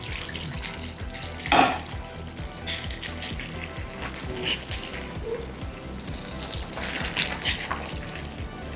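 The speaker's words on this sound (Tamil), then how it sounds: "அக்கா, இப்போ ஓப்பன் பண்ணி கலந்து விட்டு பார்க்கலாமா?" A pan lid comes off and a spoon stirs spicy dried red chilli chicken masala, with a clattering knock early on followed by scraping, light clinks and a soft sizzle-like hiss throughout.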